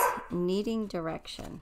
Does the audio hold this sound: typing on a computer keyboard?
no